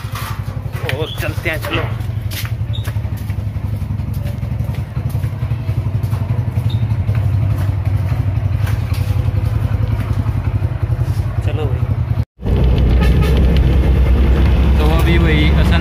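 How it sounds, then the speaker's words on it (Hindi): A motorbike engine running and being ridden, a loud steady rumbling drone with a brief cutout near the end before the engine resumes louder, with people talking over it. "अनुराग ने बाइक स्टार्ट कर ली है"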